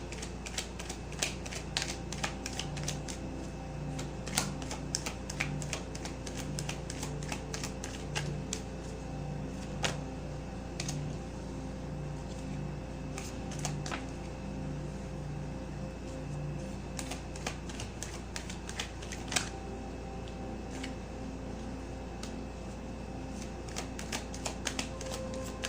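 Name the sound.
shuffling cards for a pick-a-card reading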